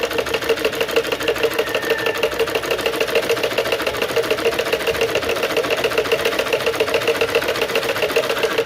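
A sewing machine hums loud and close in a fast, even rhythm, running a straight stitch through waste cloth for a baby frock, uninterrupted and with no talking.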